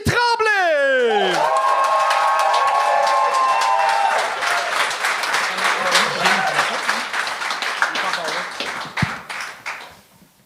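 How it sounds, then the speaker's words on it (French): After a rising whoop, a comedy-show crowd bursts into loud applause and cheering to welcome a stand-up comic to the stage. The clapping is dense and sustained, then gradually thins and fades. "On applaudit tout le monde!"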